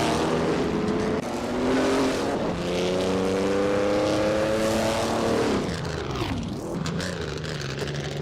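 Vintage racing cars led by a 1952 Ferrari 375 Indy in a video game at Jerez, engines roaring steadily and loud, pitch climbing through gears then dropping as a car passes and brakes.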